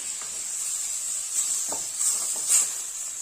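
Chopped tomatoes sauté with spices in a pan for mushroom biryani, giving a steady close hiss of sizzling with soft swells as the mixture is moved around.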